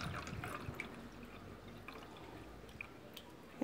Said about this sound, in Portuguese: Encho com água aqui o meu suporte.